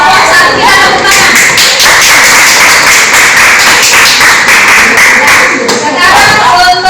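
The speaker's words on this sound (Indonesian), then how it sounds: "Untuk kelompok 1 kita tepuk tangan." A classroom of students applauds a group, giving loud, dense, continuous clapping from many hands close by that lasts the whole stretch.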